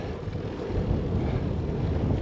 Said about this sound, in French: Le vent nous pousse là.